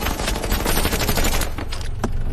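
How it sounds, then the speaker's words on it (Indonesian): Rapid, loud bursts of gunfire fill a film scene in an unbroken fusillade, dense and close, tapering near the end with a final isolated shot. "kini berniat menembak Samsul sebelum pergi dari tempat itu"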